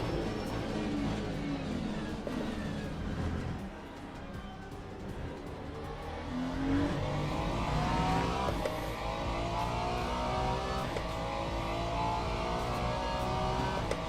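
Race car engines, including an Aston Martin, drone and rev through a Le Mans Ultimate endurance practice session, a sustained mid-pitched engine roar that rises and falls with gear changes and swells as another car closes in.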